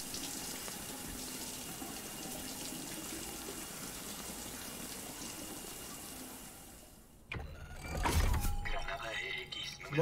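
Shower water starts running in the video game Death Stranding, a sudden steady rushing spray that follows a quiet stretch with a speaking voice, and grows louder toward the end.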